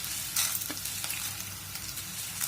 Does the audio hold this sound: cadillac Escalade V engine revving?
no